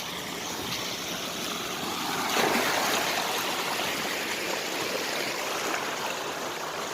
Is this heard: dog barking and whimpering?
no